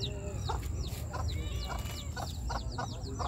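Several chickens cluck and squawk in short repeated bursts over a low background hum, fairly close, with no talking.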